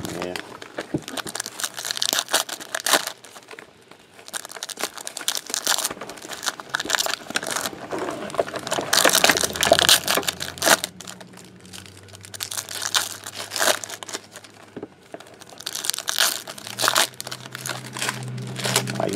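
Foil packs of 2014 Bowman Chrome trading cards are torn open by hand, with loud crinkling, crackling and ripping bursts that come and go, and voices chat over the noise.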